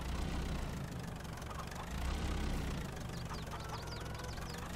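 A tractor engine idles steadily with a low rumbling knock, constant and fairly close, with faint chirps in the background.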